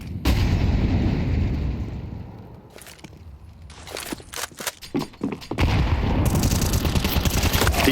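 A grenade bursts in a professional Counter-Strike match on the Vertigo map, heavy booming blasts and gunfire-like cracks with a quieter gap in the middle before the loud rumble returns.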